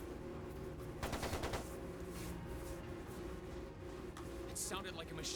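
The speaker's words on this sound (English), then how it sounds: "sounded like a machine gun" Machine gun fire in the video game Trails of Cold Steel II: a rapid, fairly faint burst of gunfire rattles for under a second amid game music and voices, with sharp crackles later.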